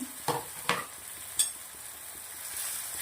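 Green garlic sautés in a pan over a low flame, with a gentle steady sizzle and three sharp stirring scrapes near the start, close and unaccompanied by speech.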